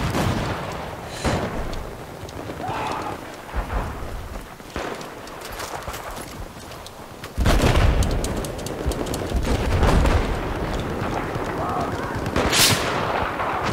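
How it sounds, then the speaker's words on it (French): Battlefield 4 gunfire crackles in sharp bursts and repeated shots, including sniper fire, growing louder and denser midway, with players talking over the combat. "Oh, on se fait snipe."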